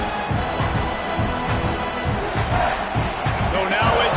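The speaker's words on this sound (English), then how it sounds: "how nice is it to have the home crowd going absolutely bananas?" A home crowd in the College Football 26 video game roars continuously at a loud, steady level, with a commentary voice running over the stadium noise.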